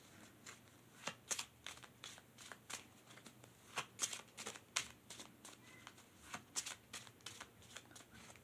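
Oracle cards being shuffled by hand, a steady run of crisp riffling bursts and soft flicks, close and quiet, with no voices.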